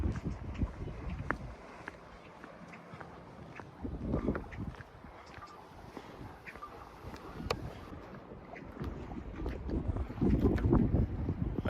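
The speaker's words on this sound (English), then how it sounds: "It's super windy here." Gusty wind buffets the microphone with low rumbling surges, strongest toward the end, over faint water and boat sounds while camping and fishing in the desert.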